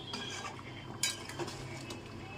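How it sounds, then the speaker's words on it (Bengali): A spoon stirs salt into a Kashmiri chilli curry gravy in a pot, producing quiet scraping and a couple of soft metallic taps against the vessel, close and alone. "আর নুনটাকে ঝোলের মধ্যে ভালো করে মিশিয়ে নিচ্ছি"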